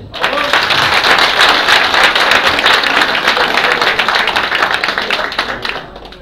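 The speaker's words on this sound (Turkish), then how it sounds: "Bazı şeyleri söyleyince alkışlıyorsunuz." A crowd applauds at an AK Party political rally in Yenişehir, with dense sustained clapping that fills the space loudly before tapering off near the end.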